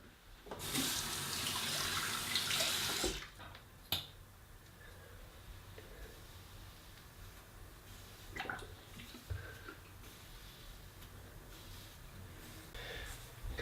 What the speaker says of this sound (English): go ahead, wash my hands now